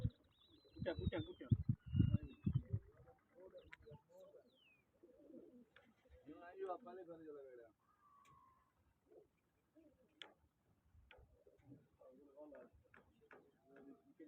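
Pigeons coo close by during a pigeon-flying contest, soft repeated calls mixed with rustling and handling noises while someone talks over them.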